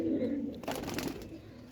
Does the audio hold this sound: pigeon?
yes